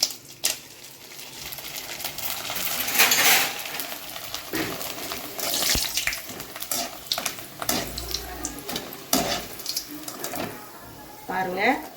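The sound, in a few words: rice vathal dropped into hot oil, frying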